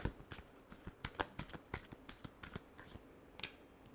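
Tarot cards shuffled by hand make a rapid run of crisp riffling snaps and flutters, close and fairly quiet, with no talking.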